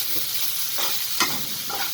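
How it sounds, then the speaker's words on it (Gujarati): Boiled peas and potatoes are stirred into a hot frying pan with a pinch of asafoetida, producing a continuous sizzle with rhythmic scraping strokes and no talking. "આપણે જે વટાણા અને બટાકા બાફી લીધા હતા એ અંદર નાખીશું આપણે અને મિક્સ કરી દઈશું."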